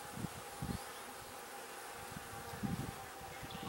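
Honeybees and larger drones buzz steadily inside an open nuc hive, a continuous close drone with a few louder swells as individual bees pass near.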